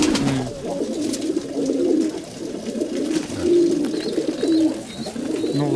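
Pigeons coo repeatedly at close range, a low rolling warble rising and falling over several seconds with no one talking.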